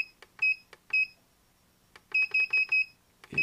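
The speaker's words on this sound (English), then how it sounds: "it beeps every single time you hit a button." Short electronic beeps sound each time a button is pressed on a dimmable lamp, coming close and clear in single chirps and quick runs of several in a quiet room.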